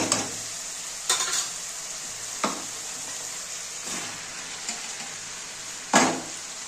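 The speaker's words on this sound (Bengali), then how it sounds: "এবারে আমি কাঁঠালগুলো দিয়ে দেব" Jackfruit pieces fry and get stirred through a spice paste in a pan, giving a steady, close sizzle broken by several sharp scraping stirs at irregular intervals, with no talking.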